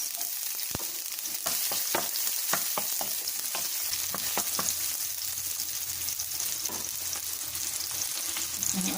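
Onions sizzle loudly and steadily in a hot pan as the first step of ginataang monggo, with frequent sharp clicks and scrapes of stirring on top of the constant frying hiss.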